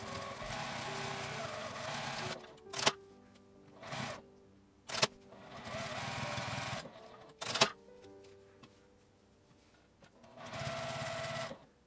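A sewing machine stitches a vertical pocket divider seam on a coin-through wallet bag in several separate bursts of steady whirring, broken by pauses and a few sharp clicks and knocks.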